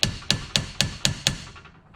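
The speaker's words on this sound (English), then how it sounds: "Yep, just give it the Happy Gilmore. A little tap, tap, tappy" Six sharp, evenly spaced hammer taps seat a CV boot onto an axle joint, each strike crisp and close with a short ringing decay, fading slightly toward the end.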